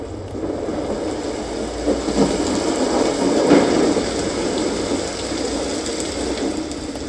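Rain and storm sound from a relaxation sound machine, a steady close hiss of heavy rainfall with a softly swelling, even texture and no talk.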